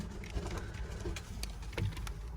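Pigeons in an indoor office aviary, with soft cooing and faint rustles among low background noise, close and quiet.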